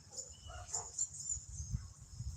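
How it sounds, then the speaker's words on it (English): Neighborhood dogs bark and yip faintly in the distance outdoors, a few short scattered calls over a low background murmur and a high steady insect-like hum. "All the neighborhood dogs are barking and barking."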